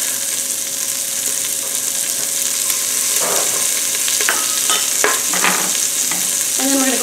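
Diced onion and garlic frying with crisping bacon in an Instant Pot, a steady loud sizzle with a few stirring scrapes and clicks toward the end.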